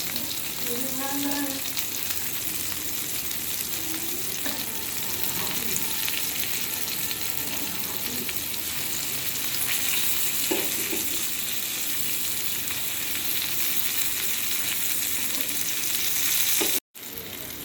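Slices of pointed gourd (potol) coated in egg fry in an oiled pan, with a dense, continuous sizzle that holds steady throughout and faint clicks as the pieces are turned with a knife.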